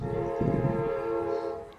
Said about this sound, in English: I'm sorry, a train's going by.